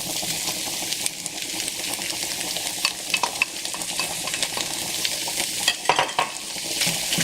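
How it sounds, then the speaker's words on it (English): Tuna frying with softened onions over medium heat in a pan, a dense continuous sizzle broken by scraping and tapping as a spoon breaks it up, with a cluster of louder knocks toward the end. "I'm just going to add in my tuna now"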